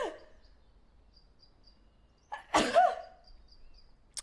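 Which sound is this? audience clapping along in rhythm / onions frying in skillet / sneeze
sneeze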